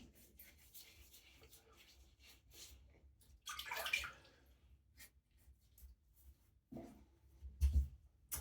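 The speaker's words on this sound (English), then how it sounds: "So let me just dampen my face again." Water sloshes and splashes in short, soft bursts as a face is dampened at a sink before a shave, with intermittent dripping and rubbing sounds between quieter pauses.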